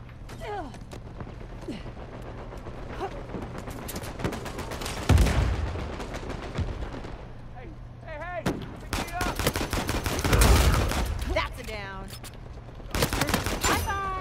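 Enemy gunfire in Uncharted 4: bursts of rapid shots crack out across the clip, with heavy louder volleys around five and ten seconds and quieter scattered rounds between, over a steady game-sound bed.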